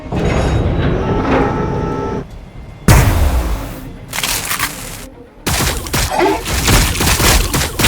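Sustained gunfire and booming explosions from the Warhammer 40,000: Battlesector battlefield, loud and dense. A steady barrage breaks off into a sudden heavy blast, then further bursts of rattling fire and impacts follow.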